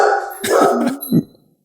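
A dog gives a few short, close barks and yips in a quick cluster, loud and distinct, before falling quiet.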